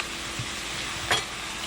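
Ground meat frying in a pan gives a steady close sizzle, with a quick scrape of a utensil stirring partway through.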